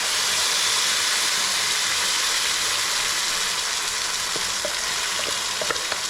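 Spices such as fenugreek and cumin frying in hot oil for an okra tamarind curry give a loud, continuous sizzle and crackle with a few sharp pops near the end.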